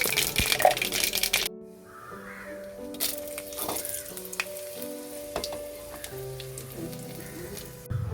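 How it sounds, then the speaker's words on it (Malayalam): Mustard seeds and dried red chillies spluttering in hot oil for a banana flower thoran, with sharp crackling pops and a steady sizzle, loud at first, then a busier stretch of scattered pops close by. "എണ്ണ ചൂടായി വരുമ്പോഴത്തേക്ക് കടുക് ഇട്ട് കൊടുത്ത് കടുക് ഒന്ന് പൊട്ടി വരുമ്പോഴത്തേക്ക് അതിലേക്ക് വറ്റൽമുളകും ചേർത്ത് കൊടുത്ത് നമുക്ക് കടുക് വറുത്തെടുക്കാം"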